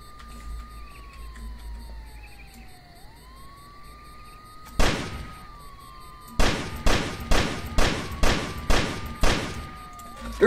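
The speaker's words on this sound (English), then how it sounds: "how do you survive that many gunshots?" Gunfire in the video game Sneak Thief: a single sharp shot, then a rapid volley of about seven loud bangs, over a wailing police siren that rises and falls throughout.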